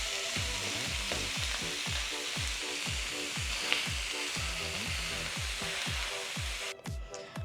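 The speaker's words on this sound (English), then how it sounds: "And now we're just gonna mix it up." Drained pasta and sausage are mixed in a big saucepan with a steady rhythm of repeated stirring strokes, each a short swish, over a soft continuous hiss.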